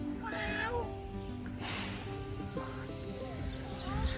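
A cat meows a few times at moderate distance at a zoo, with other animal sounds and faint background noise around it.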